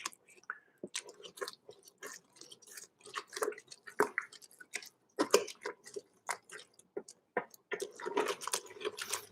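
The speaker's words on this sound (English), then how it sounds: "You can see it bubbling away there." Mushroom risotto simmers in a pan with some water added, giving off quiet, irregular wet pops and soft squishy bubbling in scattered bursts.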